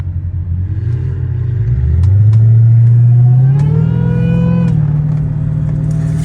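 A supercharged Dodge Challenger Hellcat Redeye engine revs up steadily from a low rumble, its pitch climbing with a faint supercharger whine, loud and close, on a hot day.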